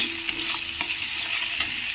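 Masala with chilli powder fries in a pan for a katla fish-head ghonto with rice and ash gourd, a constant hiss of hot oil broken by several soft scraping stirs, close up with no talking.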